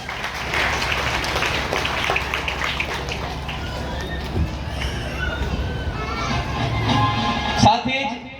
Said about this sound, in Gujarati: તાળીઓથી આપણે વધાવીએ